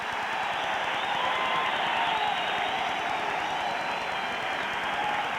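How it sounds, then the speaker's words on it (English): A football stadium crowd roars and cheers steadily during a Saints–Cincinnati game, a dense, loud wash of noise sustained throughout without a break. "And listen to this crowd."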